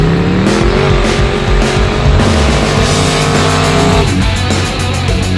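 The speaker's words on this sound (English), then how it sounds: "And doing burnouts?" Loud car burnout from a high-horsepower turbocharged G-body, the engine roaring at high revs over continuous tire squeal with small shifts in pitch, close and sustained.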